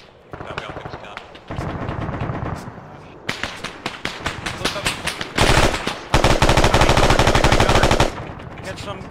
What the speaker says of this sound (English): APC firing at us